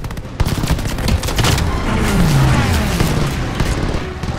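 Heavy aircraft gunfire roars through a World War II aerial dogfight in Call of Duty Vanguard over Midway, a dense continuous fusillade of rapid shots with explosions and engine drone, loud and close throughout.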